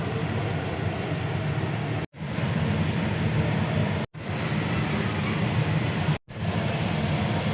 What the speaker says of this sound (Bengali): এবার আমি তেলের মধ্যে এক এক করে ছেড়ে দিচ্ছি।